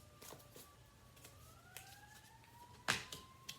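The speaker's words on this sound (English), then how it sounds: "I don't know if you can hear the sirens." A faint wailing siren rises slowly in pitch, distant and thin, with a few sharp clicks and knocks nearby.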